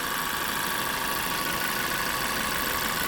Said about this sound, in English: Engine's running fine.